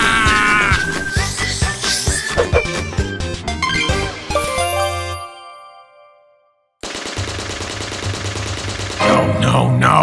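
Rapid animated machine-gun fire rattles in dense bursts alongside ringing metallic tinkles, breaks off into near silence for a moment, then resumes just as loud and chaotic.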